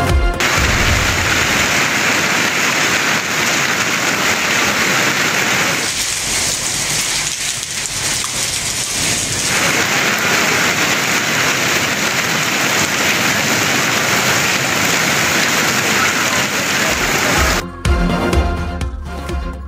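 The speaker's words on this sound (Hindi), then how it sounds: "गुजरात समेत पंजाब में मूसलाधार बारिश और यालाबारी" Heavy downpour with hail across Punjab, a loud, steady roar of rain pounding surfaces that continues throughout, dipping briefly midway and ending in a burst of sharper impacts.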